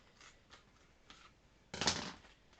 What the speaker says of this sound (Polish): Przygotowałem sobie już nożyczki.